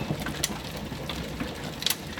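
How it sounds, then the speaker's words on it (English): Hail from a strong thunderstorm rattles down steadily as a dense, even patter, with a few sharper clicks of stones striking nearby surfaces. "is the biggest hail I've seen in like ages"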